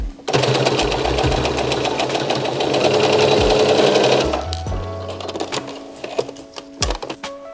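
Stitching along a pinned line of a summer dress at normal stitch length, a sewing machine hums and clatters loudly up close for about four seconds, then slows into scattered clicks and handling noises.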